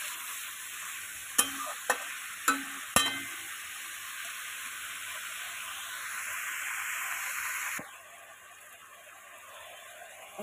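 Pumpkin stems with shrimp and spices are stirred in a frying pan: four sharp spatula knocks near the start, then a steady close sizzle that fades to a quieter hiss toward the end.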